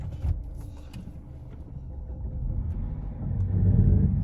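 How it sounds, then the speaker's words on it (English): A Saturn Vue with a 2.2 engine, replaced, driving on a test drive, a low engine rumble and road noise building steadily as the car pulls away and accelerates, with a few light clicks early on. "let's go ahead and take it for a quick drive"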